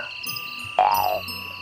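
A frog croaks once by a pond, a short, fairly loud call rising out of a quiet background with faint insect-like hum.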